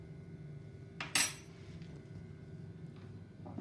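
Tomato seed pulp is scraped into a sieve, making a brief metallic clink and scrape of a utensil against the mesh over a quiet room hum, then a faint second touch.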